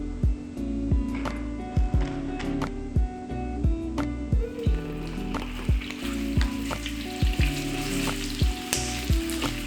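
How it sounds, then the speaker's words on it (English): Pork belly frying in dissolved rock sugar in a hot pan, a loud steady sizzle with repeated sharp spatula scrapes and knocks at a brisk rhythm, close up and with no talking. "If you don't pat your pork belly dry, it will definitely splutter everywhere"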